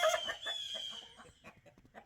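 A hen in a straw-lined nesting box gives a run of soft, close clucks and short calls in an uneven rhythm, with no voices over it.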